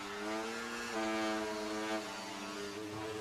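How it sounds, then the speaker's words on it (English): A race car engine in a racing video game at Monaco, a steady harmonic whine with wheel spin that rises slightly and then settles, heard alone at moderate level. "You just hear all that wheel spin."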